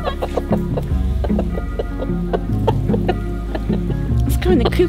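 Buff Orpington chickens clucking near a coop in the evening, a run of repeated short clucks and low murmuring calls close by, steady throughout with a few louder squawks near the end.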